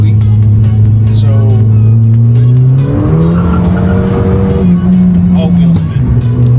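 A car on winter snow tires spins all its wheels, engine droning loud and close with a rising pitch and tires scrabbling for grip.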